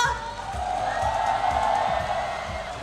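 A crowd at an esports event in Wuhan cheers and claps for a winning player from Hubei, a broad, sustained roar of whoops and applause filling the room.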